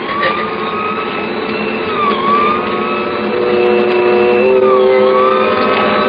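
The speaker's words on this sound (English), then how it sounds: "We both heard the siren then." A wailing emergency siren rises and falls over a steady engine rumble, fairly loud and sustained throughout.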